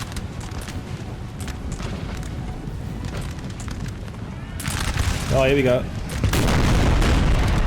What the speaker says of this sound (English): They fired cannonballs.